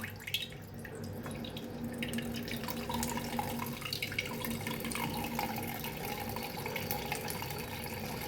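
Whey from curd tied in a knotted cloth for shrikhand trickles and drips steadily, faint and continuous, with a low background hum and no talking.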